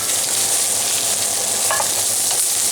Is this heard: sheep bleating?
no